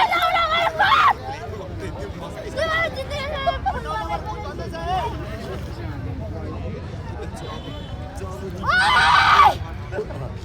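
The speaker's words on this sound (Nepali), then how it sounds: "यतिको चाहिँ हुटिङ हुनु पर्यो नि त है साथीहरू" Football match crowd celebrating an Urlabari goal: a steady babble of many voices, broken at the start and near the end by loud, high hooting and cheering bursts.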